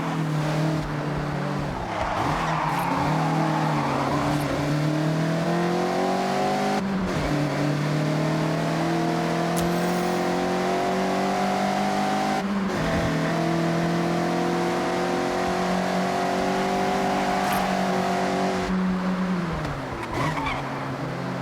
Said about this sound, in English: Attack these corners. Don't worry about traction. The MX-5 likes to be sideways.